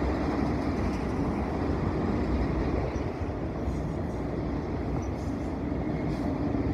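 BNSF short mixed freight train led and trailed by GE Evolution (GEVO) locomotives passing at Vintage Parkway, a loud continuous rumble and rail roar held steady throughout, no voices.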